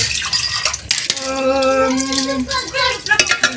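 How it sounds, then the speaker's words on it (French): Dishes, cutlery and pans clink and clatter close by as a dishwasher is loaded in a busy family kitchen, with irregular knocks over a steady tonal background hum. "je suis en train de ranger un petit peu dans le lave-vaisselle"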